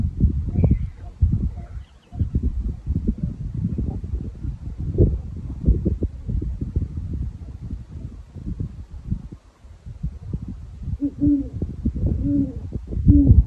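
Soft hoots of an owl sound faintly from far off near Fort Sumner, New Mexico, rising near the end over steady low rumbling background noise and rustle.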